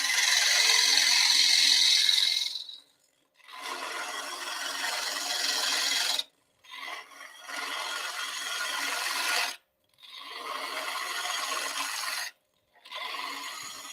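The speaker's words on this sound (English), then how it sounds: "and then scraping up the sidewall." A gouge scrapes the sidewall of a wooden piece turning on a lathe, giving bursts of steady raspy scraping, each a few seconds long and separated by brief pauses, close and fairly loud, with no talk.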